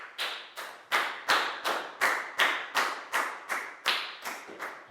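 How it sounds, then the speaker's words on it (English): A Year 4 science class gives a round of applause to a pupil: a dozen evenly spaced, unison claps, each sharp with a short ringing decay, in a steady rhythm and at moderate level. "High five and a big round of applause for Dan"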